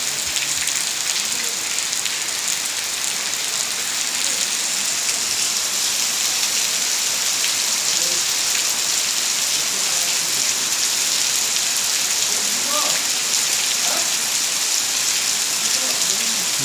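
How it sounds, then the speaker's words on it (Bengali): Heavy monsoon-style downpour in Panchagarh, Bangladesh: a dense, constant roar of rain hitting surfaces, loud and close, with a few louder drips standing out. "এখানে বৃষ্টি হচ্ছে খুব ভালো লাগতেছে"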